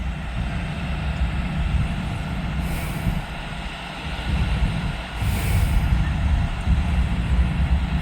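Deep rumble of a train with a heritage unit locomotive approaching at Deshler, heard from trackside as a low, steady roar that grows slightly louder, with a couple of brief high hissing bursts.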